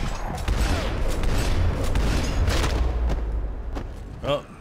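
Gunfire in Max Payne 3 aimed at a car's tires and the men inside, a dense burst of rapid shots and booms close up, fading near the end, with a voice heard.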